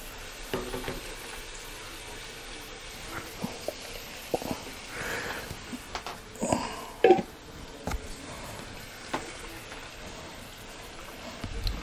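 Shrimp dropped into a pan for shrimp scampi give a crackling sizzle with stirring clatter and a few louder knocks, with no talking.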